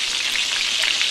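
Onions sizzle in hot oil with ginger masala for a Telugu goat head curry, a dense, steady crackling hiss heard close and alone without any voices.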